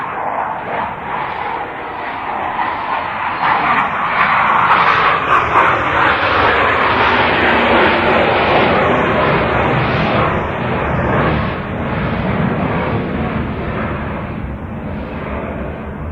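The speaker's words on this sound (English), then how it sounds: "That jet plane went over us." A jet plane roars overhead above an outdoor public gathering in Madras, a loud broadband rush that swells toward the middle and slowly fades over about sixteen seconds, heard alone with no talk.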